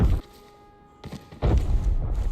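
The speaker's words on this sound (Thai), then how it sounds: "อุ้ยระเบิดฝั่งนู้น" Explosions in the shooter game Arena Breakout: two or three dull, booming thuds, distant and separated by quiet pauses, with the last one longer and rumbling.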